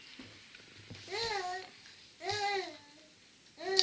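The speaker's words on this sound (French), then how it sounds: "Du coup là vous allez entendre bébé à côté de moi qui est dans la chaise." A baby sitting in a chair babbles in three separate bursts of rising and falling coos and vowel sounds. It is fairly close and clear over a quiet background.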